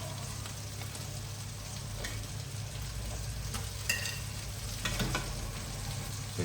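Potatoes fry in hot oil with a dense, continuous sizzle, close and fairly quiet, broken by a few brief scrapes and clinks.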